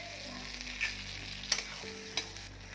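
Tomato pasta sauce being stirred in a frying pan, a steady low sizzle with a few soft spoon scrapes and clinks against the pan.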